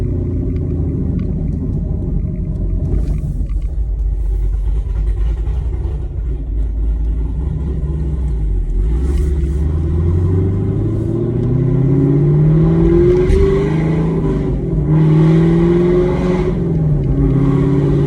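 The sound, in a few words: 2019 Camaro SS V8 exhaust with Borla Atak system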